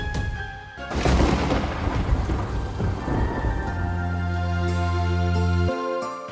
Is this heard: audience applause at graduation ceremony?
no